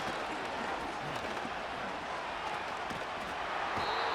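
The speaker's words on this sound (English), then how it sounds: "This crowd turning up the decibel level" A stadium crowd roars in a steady, dense wash of cheering during a Madden NFL 25 football game between Cleveland and Jacksonville, swelling slightly louder toward the end.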